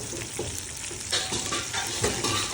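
Battered chili fish pieces, coated in cornflour, sizzle and crackle steadily as they fry in hot oil in a wok, loud and close, with occasional stirring scrapes and clinks of a utensil.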